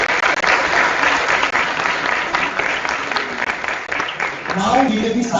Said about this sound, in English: Can we please have a huge round of applause for Mr. Sandeep Singh and Mr. Ashok?